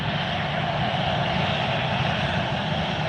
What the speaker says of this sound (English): Right now we have a Copa taxiing up, and we have United taxiing up